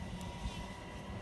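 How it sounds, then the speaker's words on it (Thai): A train passing nearby gives a steady, dense rumble with a broad roar that holds level through the short stretch, with no voices over it. "เสียงรถรถไฟเหมือนเดิมนะคะ"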